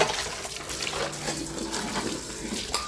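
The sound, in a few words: filling vessels with water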